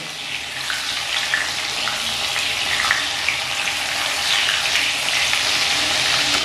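Ridge gourd pieces frying in hot oil over a high flame for a rohu fish curry, a steady loud broadband sizzle like running water that holds evenly throughout with no voices.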